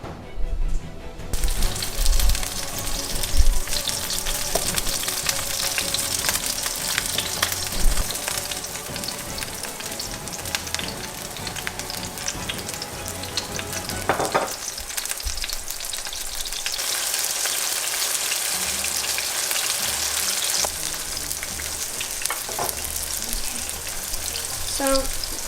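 Eggplant pieces fry in hot oil in a pan, a loud steady sizzle and crackle that runs throughout, with occasional stirring and shifting of the pieces.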